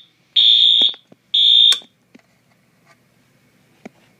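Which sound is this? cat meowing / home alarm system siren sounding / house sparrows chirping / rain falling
home alarm system siren sounding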